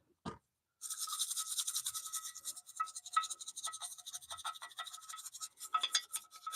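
Cotton swabs scrubbing inside a dusty, long-uncleaned No. 7 hand plane, a steady close scratchy rubbing with small irregular clicks, after one brief knock at the start.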